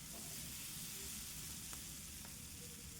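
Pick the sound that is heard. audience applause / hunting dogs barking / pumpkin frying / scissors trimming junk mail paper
pumpkin frying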